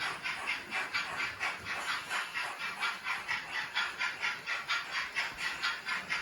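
A model railway's train sound effect chuffs in a fast, regular rhythm of hissing bursts as a train departs the platform, steady and close, with no voices.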